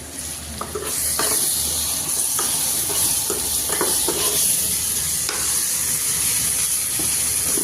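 Tadka tempering for dal sizzles loudly and steadily in a hot pan at home, with repeated stirring scrapes and clinks of a utensil on metal over a continuous frying hiss, and no talk.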